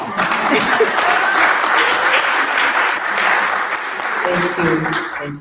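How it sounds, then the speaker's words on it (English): Audience applause fills a hotel hall during a Valentine's Day breakfast meeting, a dense, steady clatter of many hands that runs throughout and tapers slightly near the end. "If you people had not clapped, I was going to ask for it."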